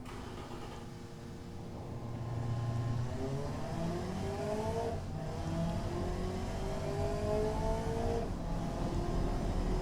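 Computer-driven car in the Automation engine-building game, likely a BMW-engined build, with a steady engine drone whose pitch climbs repeatedly through gear changes, close and continuous with no talk.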